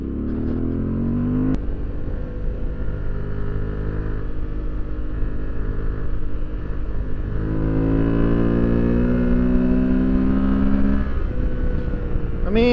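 Motorcycle on Tusk 2Track adventure tires accelerating hard through twisty roads, its engine rising and falling through gear changes with a steady loud drone and climbing pitch, wind rush constant, heard from the rider's position.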